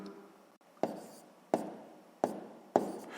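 An equation being written out for a sixth-grade maths exercise, heard as four evenly spaced, sharp taps and short scratchy strokes, close and alone.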